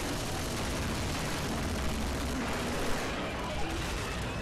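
Dense, continuous combat shotgun fire from the Left 4 Dead 2 co-op campaign, a loud, sustained barrage with scattered sharper blasts, no voices present.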